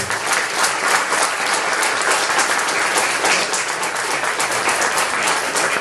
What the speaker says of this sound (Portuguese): vamos aplaudir um pouquinho a irmã Maria, por favor.